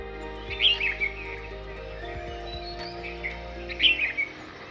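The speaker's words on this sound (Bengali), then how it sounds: "পরের দিন সকালবেলা ঘুম ভাঙল পাখির কলরবে।" Morning birdsong at Kalimpong in the hills, with chirps and tweets repeating at moderate distance over a steady outdoor hum, two louder bursts of calls standing out.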